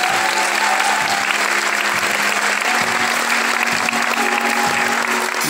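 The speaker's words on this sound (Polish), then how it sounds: "Wielkie brawo." Dense, sustained applause from a concert audience fills the whole stretch at steady high volume, with faint sustained instrument tones underneath and no speech.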